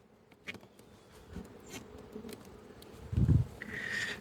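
Honey bees buzz around an open, strong hive during an inspection, a soft steady drone with a few louder passes close by and a brief handling thump near the end.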